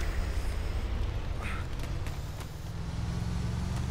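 A vehicle engine in Arma 2 hums low and steady while driving, a constant rumble with faint road noise and a few small knocks, and no voices heard.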